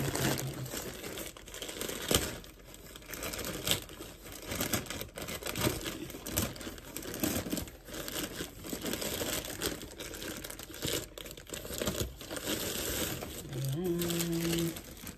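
Packaging of an ordered parcel being crinkled and torn open up close, with continuous dense rustling and crackling and occasional sharper rips, and a voice speaking briefly.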